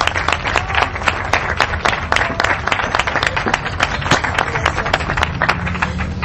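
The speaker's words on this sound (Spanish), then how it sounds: "¿Aplausos?" An audience at a charity event breaks into applause, a dense spread of hand claps with sharp individual slaps standing out, sustained steadily at moderate loudness with no voices on top.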